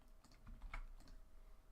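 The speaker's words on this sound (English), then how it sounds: "You can hear fucking Zach smashing the crap out of his keyboard." Fast, uneven bursts of keystrokes from someone hammering on a computer keyboard, faint and somewhat distant, with no talking.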